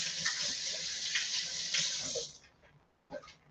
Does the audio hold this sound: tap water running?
yes